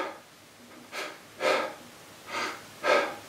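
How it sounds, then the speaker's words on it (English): Deep diaphragmatic breaths drawn in through the nose, four short airy pulls in a loose rhythm, close and fairly quiet with no talking. "take a deep breath in"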